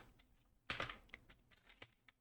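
Code being typed on a computer keyboard, a quiet, close run of irregular key clicks with one louder cluster of strokes, no voices.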